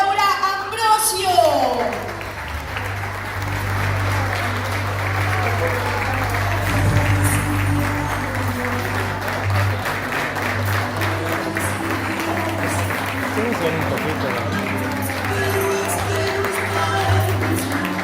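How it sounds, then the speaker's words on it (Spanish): Audience applause at an event, steady clapping from a crowd sustained throughout with a voice speaking over it and a low hum underneath. "Fuerte el aplauso para recibir a Laura Ambrosio."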